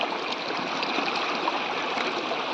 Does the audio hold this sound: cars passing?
no